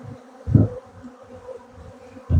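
Honey bees buzz around an opened beehive during a honey harvest in Adana, a low droning hum with a couple of louder swells as bees pass close.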